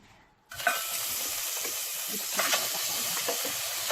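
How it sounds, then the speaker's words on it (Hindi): Mutton drops into a hot pot for yakhni pulao, setting off a sudden loud sizzle that settles into a steady hiss and crackle with a few scraping stirs, close by and without talking. "इसके अंदर मैं गोश्त डालूंगी"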